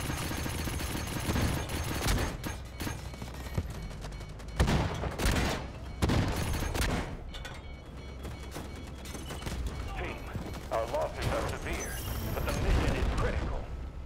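Cannon turrets firing in the shooter game Delta Force: Hawk Ops, with dense bursts of gunfire and booms echoing amid mechanical clatter, loud and continuous while someone talks over the action.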